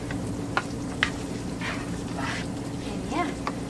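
Onion and fresh garlic fry in a pan for a vegan pasta dish, giving a steady broadband sizzle broken by a few sharp clinks and stirring scrapes, with faint voices now and then over it.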